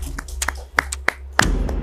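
A few scattered hand claps, then a burst of group clapping from about midway as a studio audience applauds Seema's team on a Doordarshan women's game show.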